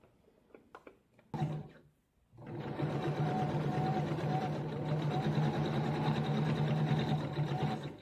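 A sewing machine runs steadily around a sweat bra, a continuous close whir after a few brief clicks and a short pause, running alone without talk.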